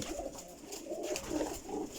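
Pigeons in a high-flying breeding loft, including a pair of white pigeons, give soft repeated coos that overlap one another at close range, with no talk over them.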